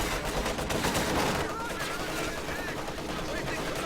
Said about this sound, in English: MG34 versus MG34